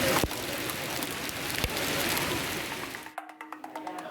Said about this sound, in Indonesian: Saat salat Asyar berjamaah dilaksanakan, hujan lebat juga masih melanda.